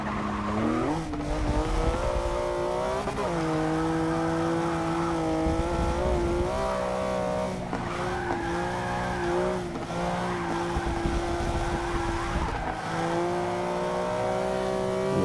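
A 2015 Porsche Cayman GTS racing in Forza 6 holds a loud, continuous engine howl that rises and falls with gear changes and revs, with tire squeal during cornering and no talk.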